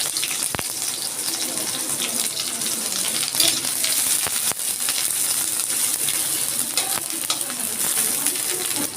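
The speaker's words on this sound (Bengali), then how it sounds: "আমি ছোট ছোট 5টা রসুন দিয়ে দিচ্ছি অল্প কটা পেঁয়াজ।" Small garlic cloves and a little onion hit hot oil in a heated wok for a jackfruit and shrimp dish, producing a loud, crackling sizzle with scattered sharp pops and stirring clicks, continuous and close, no voices.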